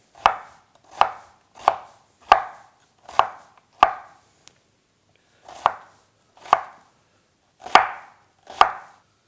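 A knife chops food into strips on a cutting board with sharp, evenly spaced strokes, six in a steady run, a short pause, then four more, close and clear with no talking.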